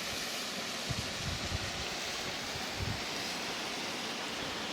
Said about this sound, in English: I'm at the top of Moss Beck and that's Moss Force waterfall.